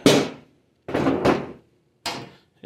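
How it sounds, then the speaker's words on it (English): The door of a Potter PFC-4410 fire alarm panel is handled and taken off, giving four short metallic clunks and rattles, each fading quickly, separated by brief silences, close to the microphone. "So I'm going to take the door off of this."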